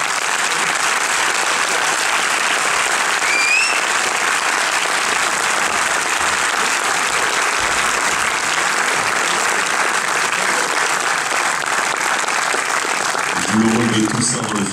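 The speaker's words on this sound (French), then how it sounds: "S'il vous plaît, faites du bruit pour Nelia Arzou" A theater audience at a French film premiere applauds steadily and loudly for the full stretch, a dense wash of clapping with a few whistles rising above it, and brief talk near the end.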